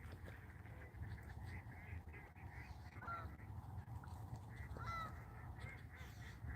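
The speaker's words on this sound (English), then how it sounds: "Here's some geese flying by." Geese honking faintly as they fly over a marsh crowded with thousands of ducks, a few distant calls rising above a steady low background hum.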